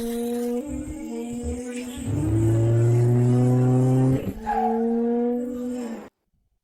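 A modified off-road car engine revs hard and close, climbing tones rising through a sustained loud roar, easing briefly, then revving again before cutting off abruptly.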